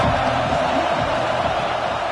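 Stadium crowd at a college football game in College Football 26, a dense continuous roar of many voices, loud and unbroken throughout.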